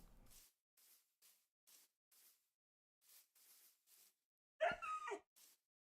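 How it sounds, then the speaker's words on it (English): A dog in the video game Minecraft gives a series of short, soft whimpers and yips in an irregular rhythm, with one louder bark-like cry near the end. "Hello, doggy."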